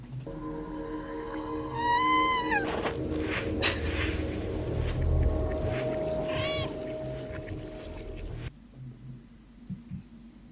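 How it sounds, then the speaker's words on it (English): A cat meows in the video game Stray, a rising and falling cry around two seconds in, with a steady game soundtrack and rumble underneath and later a short second call before the sound drops away. "What's this cat game called? Stray."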